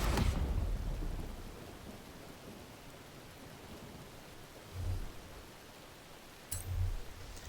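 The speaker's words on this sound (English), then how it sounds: "Raining again." Steady rain falls in Forza Horizon 4, with low thunder rumbling in the distance and rolling in twice more toward the end. No voices are heard.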